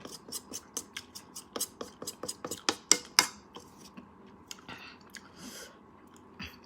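Close, wet chewing of a spicy tuna salad, with a steady run of crunchy, smacking bites that peaks midway and then tapers to softer mastication, and no talking.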